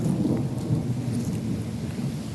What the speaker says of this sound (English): That thunder and lightning is like every 30 seconds.